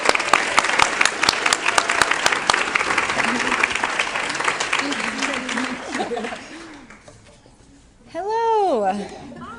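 Audience applause welcoming the final speaker at a college transfer celebration: dense clapping from a crowd fills the first six seconds, then fades out, followed by a voice speaking alone.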